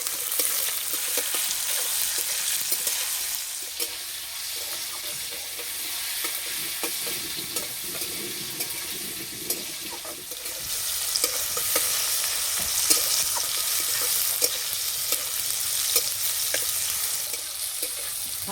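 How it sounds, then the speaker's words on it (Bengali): Garlic, tomato, whole cumin, dried red chilies and whole garam masala fry in hot oil while being stirred. The sizzle is steady and loud for the whole stretch, with scraping stirring strokes and no voices. "টমেটো, গোটা জিরে, শুকনো লঙ্কা আর দেবো গোটা গরম মশলা। একটু ভালো করে ভেজে নেব।"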